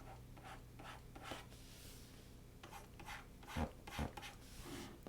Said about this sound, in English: This is where I'm going to shade in some shadows.